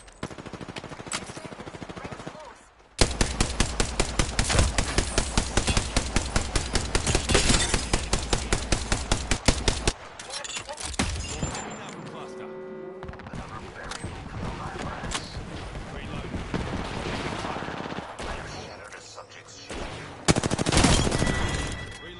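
Gunfire in Apex Legends, with a long rapid burst of automatic fire that hammers steadily for several seconds and then gives way to scattered shots, mechanical clatter and game effects, closing with another loud burst.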